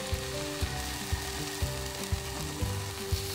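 Long onion and shiitake mushroom sizzling in a pan for a sukiyaki beef bowl, a steady close frying hiss under a regular rhythmic thumping beat of music.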